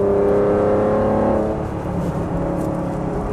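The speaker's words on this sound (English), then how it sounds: "we can hit VTEC as well, and get you guys a little more engine sounds" A 1991 Acura NSX engine roars steadily and loudly from close by in third gear on a freeway, holding a sustained high rev into VTEC with a slight dip and recovery partway through.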